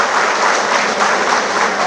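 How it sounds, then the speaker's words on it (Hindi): An audience at a formal security services wing (RERF) session applauds, a loud, even wash of many hands clapping continuously throughout. "तो उनके लिए भी ताली बजाएंगे।"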